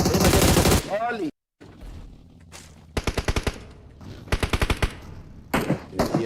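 Automatic weapon sprays crack out in rapid bursts in a PUBG match on the Miramar map, several strings of fast shots from near and farther positions separated by short gaps, with a brief silent dropout early on.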